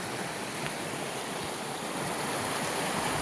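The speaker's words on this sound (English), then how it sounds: "I see the river running in two different, it's coming from two different directions" A clear, ice-cold river flows through Panther Creek forest in North Georgia, a continuous close rushing wash of water that stays even and fairly loud with no voices over it.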